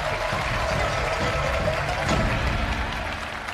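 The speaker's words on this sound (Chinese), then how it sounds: "掌声送给两位。" Studio audience applauding as two crosstalk comedians take the stage for a comedy final, a dense steady wash of clapping lasting the whole stretch.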